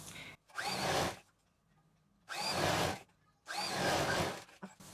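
A domestic sewing machine stitching along a crease line in old cloth being reused, running in three loud bursts of mechanical whirring separated by short pauses.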